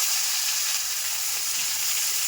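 Whole tomatoes frying in hot oil with bay leaf in a pan, a steady, close, loud sizzle and crackle that holds evenly throughout with no voices.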